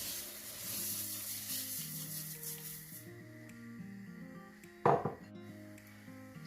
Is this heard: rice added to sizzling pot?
yes